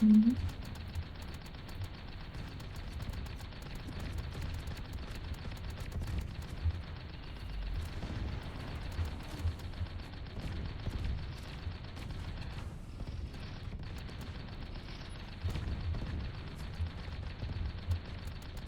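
A Vulcan minigun turret in the tank game Tanki Online fires in a sustained, dense mechanical rattle with occasional heavier booms. The firing is fairly quiet and steady throughout, with little else audible over it.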